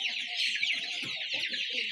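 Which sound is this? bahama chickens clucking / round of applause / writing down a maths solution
bahama chickens clucking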